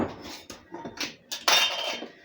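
Glass spice jars of garlic powder and pepper being opened and set down on a kitchen counter, giving several close, bright clinks and taps in a short, irregular burst.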